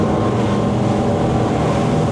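An XO DSCVR 9 T-Top motorboat with a V10 400 hp outboard cruises at speed through waves, its engine drone steady and loud beneath continuous wind and water rush.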